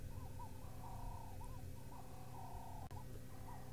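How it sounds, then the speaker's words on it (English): Several turtle doves coo together outdoors on a safari reserve, their soft, rolling purrs overlapping in repeated phrases over a steady low rumble of background noise, with one sharp click near the end. "There's 3 turtle doves now calling at the same time."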